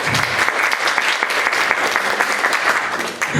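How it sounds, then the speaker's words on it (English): A crowd at a Hamtramck community initiative meeting applauds the city council, dense and loud clapping sustained evenly throughout with a brief dip at the end. "can we give our city council a round of applause for their leadership?"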